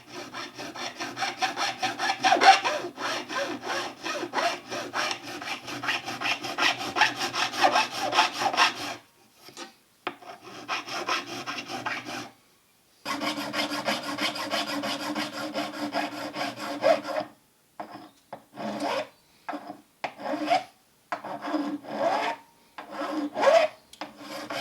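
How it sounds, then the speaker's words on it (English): An old, slightly rusty crowning file rasps back and forth over the frets of a Les Paul Junior Special-style guitar, a close, rhythmic scraping that comes in quick strokes with a few brief pauses. "So it's just a little crowning file."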